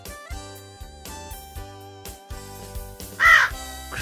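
A crow gives a single loud, harsh caw over a steady plucked-note background melody.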